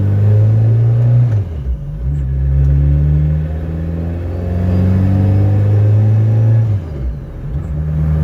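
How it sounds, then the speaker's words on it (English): A 330+ bhp Citroen Saxo VTS turbo with a gripper plate differential drives while warming up: a loud, close engine drone that swells and drops with throttle, with turbo whooshes layered over the rumble. "Got some turbo noises."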